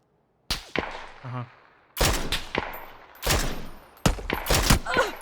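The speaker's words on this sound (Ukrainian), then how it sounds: "вони стріляють, правда?" Bursts of loud gunfire in PUBG crackle in several sharp volleys, close and rapid, with brief gaps between clusters of shots.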